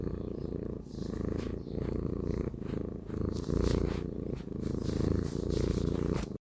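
Pet cat purring close up, a steady low rumbling purr with rhythmic breathing pulses, continuous and fairly quiet, with no talking.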